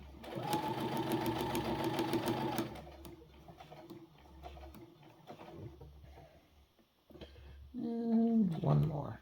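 A sewing machine stitches Zorro pants in two bursts, a long steady whir at the start and a short run near the end, with quiet handling between.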